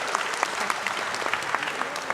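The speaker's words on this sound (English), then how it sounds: "So please put your hands together, everyone." Crowd at a Lunar New Year celebration applauding Prime Minister Jacinda Ardern, a steady field of clapping with distinct sharp individual claps standing out, moderately distant and sustained.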